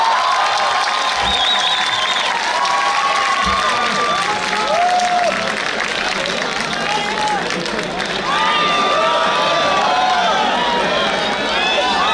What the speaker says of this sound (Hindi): बहुत तालियां इस बंद यार के लिए गाइस